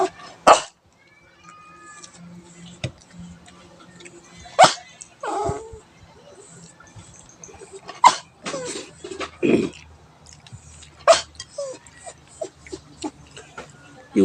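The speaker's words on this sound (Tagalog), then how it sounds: "Lagi yan tumatahol pag may ice cream mga idol kasi nasanay siya na kumain ng ice cream." A pet dog begging for ice cream gives short sharp barks and whiny yelps scattered through the clip, fairly close, between quiet pauses and background household noise.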